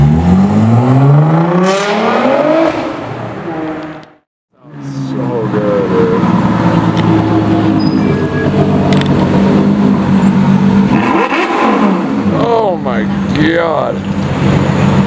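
Ferrari F50 supercar engine revving loudly at close range, with repeated rising and falling revs, a sudden cut to near silence, then more sharp blips while people talk over it.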